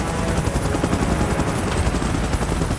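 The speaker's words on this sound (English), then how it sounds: "Chopper in position." A helicopter hovers in position during an evacuation in the video game BGMI, its dense rotor thump and engine roar close, loud and unbroken throughout.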